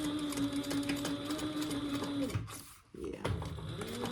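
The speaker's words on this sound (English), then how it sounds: "I'm going to just top stitch that" A sewing machine top stitches a clutch stiffened with Peltex, a steady close rapid whirring hum that pauses briefly before starting again, with a faint voice now and then.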